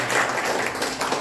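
A church congregation applauds during a Sunday worship service, a brief dense wash of many hands clapping at once that fills the room for about a second.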